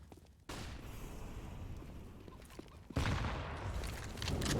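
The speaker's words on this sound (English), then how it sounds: "Great nade onto Nickelback." A grenade detonates in a Counter-Strike match, a sudden loud boom entering after a short quiet lead-in, followed by sustained gunfire-like crackle and a second heavy burst of noise near the end.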